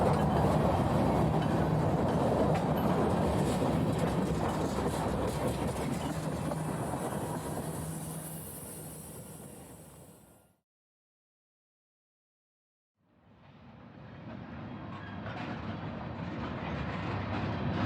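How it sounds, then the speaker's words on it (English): A train rolls along the rails with steady, loud clattering rumble, then a sudden gap of silence before the rolling rail noise resumes more quietly; no distinct high squeal stands out. "the train wheels began to screech underfoot"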